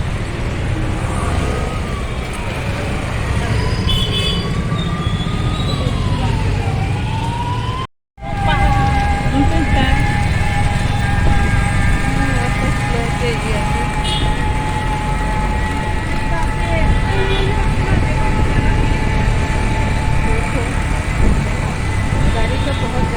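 Heavy traffic roars along a city street near malls and restaurants on a rainy night, loud and continuous, with a siren wailing through it and a momentary dropout partway.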